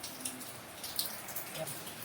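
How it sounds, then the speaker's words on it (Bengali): Rain falling outside during a stormy spell, a faint, steady patter with scattered drips, distant and low in level, with no talk over it. "কিন্তু এখন আবার বৃষ্টি পড়ছে"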